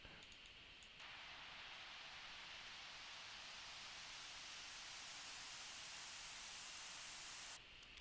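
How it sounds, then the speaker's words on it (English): An EDM-style white noise riser that swells in after a brief quiet lead-in and holds steady as a low-pass filter sweeps it upward, growing brighter and fuller over several seconds before cutting off abruptly near the end. "This will be a low pass filter, and it'll give us that like sweep up effect"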